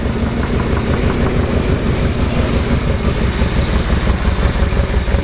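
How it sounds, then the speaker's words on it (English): A 2009 Yamaha Royal Star motorcycle engine idles steadily and fairly loud and close, with an even low rumbling pulse throughout and no speech. "Fire this thing up for you guys."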